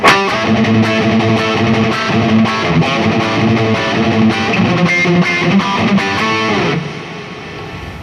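Heavily distorted electric guitar through an Overloud TH2 amp simulator, a Lynch Box head with Ultra XL model, cab and room reverb, plays chugging, chord-driven riffs, loud and continuous, then a sustained chord rings out at the end.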